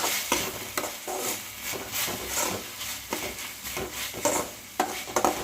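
Ingredients for macaroni pasta fry in a pan under steady sizzling, with repeated rhythmic scraping stirs roughly every half second, close and fairly loud, with no speech.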